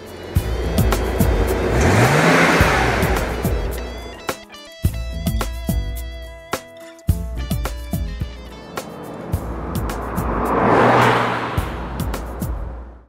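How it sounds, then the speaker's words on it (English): A 2009 BMW 528i with a 3-liter 230-horsepower inline-6 and 6-speed automatic accelerates in two loud surges at the start and end, with a quieter stretch in between. "Powering this exciting automobile is a 6-speed automatic 3-liter 230-horsepower inline-6 which delivers quick acceleration"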